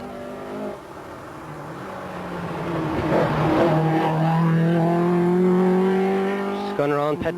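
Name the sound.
rally car racing around a corner on a stage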